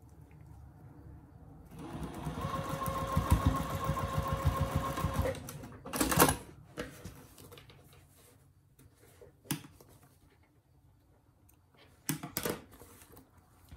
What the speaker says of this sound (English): I'm gonna flip this around and stitch it from the back side